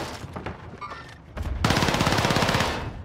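Rapid automatic gunfire in the Fortnite video game, first a few scattered shots, then a sustained fast burst of loud, close rattling fire that runs steadily for over a second.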